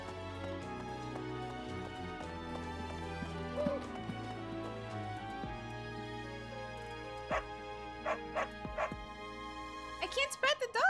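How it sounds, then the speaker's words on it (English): A small dog in the Fire Emblem: Three Houses video game gives a few short yips and barks over a steady game music bed, the barks clustered near the end. "There's a dog!"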